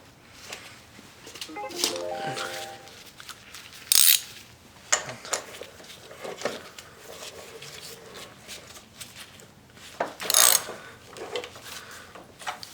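Bolt being tightened on a lawn mower drive train, heard as close mechanical ratchet-like clicks and metallic scrapes in scattered bursts, with a couple of sharper clanks, no talking.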